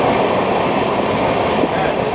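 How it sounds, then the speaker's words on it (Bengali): The 13053 Kulik Express, in a Vistadome coach, rumbles steadily along the Howrah–Bardhaman main line near Simlagarh station, with a continuous loud rolling roar and faint clatter of wheels, no voices. "আমাদের ট্রেন এখন হাওড়া বর্ধমান মেন লাইনে সিমলাগড় স্টেশনে।"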